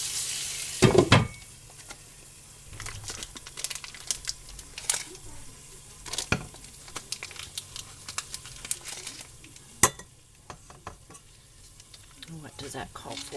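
Butter sizzling in a frying pan while beef rice-a-roni is started, a steady frying hiss with stirring scrapes and occasional pan knocks, loud and close throughout.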